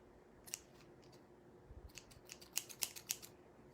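Scissors snipping paper during a jar redesign craft at home, a quiet close series of crisp cuts, a single snip early then a quick run of six or seven snips toward the end.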